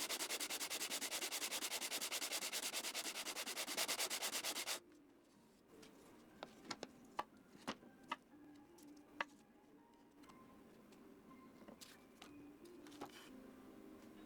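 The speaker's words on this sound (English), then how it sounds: "Quick sand to get it flat." A maple mirror frame is sanded flat with a steady, close, loud rubbing hiss for about five seconds, which stops abruptly and gives way to faint, sparse ticks and taps.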